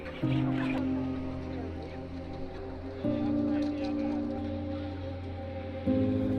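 Chickens clucking and murmuring while packed into crates before being trucked to an abattoir, a steady crowded flock sound under a continuous low engine-like drone, with talk over it.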